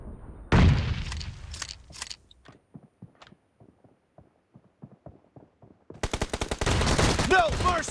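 Shotgun fire in the mobile battle game BGMI: a loud close blast, a few more shots, a run of quieter rhythmic clicks and clacks like reloading, then a dense burst of rapid gunfire at the end.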